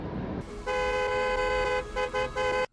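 Car horns blare in German road traffic, a long steady honk held for about two seconds and then broken into a couple of shorter blasts over traffic noise, loud and close, with no talking.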